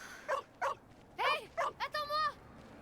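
A dog in the video game Two Falls Nishu Takuatshina gives a series of short yips and whimpering barks, several separate calls rising into a longer whine, fairly close and alone.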